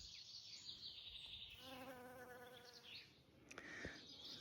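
A small bee feeding on a dahlia flower in a garden buzzes faintly close by, its steady hum rising and shifting pitch for a few seconds against quiet outdoor background.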